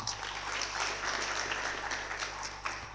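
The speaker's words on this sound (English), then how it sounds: "Give them a big round of applause" Audience applause at a university hackathon launch event, a steady wash of clapping from a crowd, fairly soft and distant over a low hum, with a little talk.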